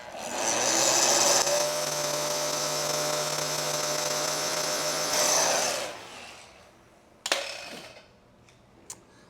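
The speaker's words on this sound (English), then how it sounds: "we're going to take our heat gun and flash dry this like a lickety split" Heat gun blowing steadily with a strong broadband hiss and low hum while flash drying paint on a 2012 Ford Escape, running about six seconds then cutting off, followed by a couple of brief clicks.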